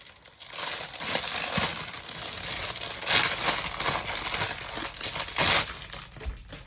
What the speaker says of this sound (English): I'm going to take it out of the cellophane.